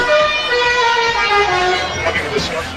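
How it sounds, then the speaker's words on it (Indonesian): A bus telolet horn sounds a continuous melodic multi-tone toot, loud and near, with street crowd noise and voices underneath. "klakson telolet yang saat ini sedang menjadi bahan perbincangan"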